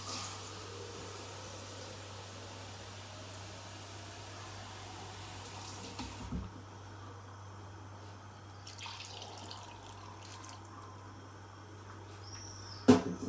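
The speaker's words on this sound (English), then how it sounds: "I'll be adding more water." More water goes into a pot of homemade peanut soup: a steady pouring splash for about six seconds, then it stops, leaving quieter kitchen sounds, a low hum and a few faint clinks, with a short knock at the end.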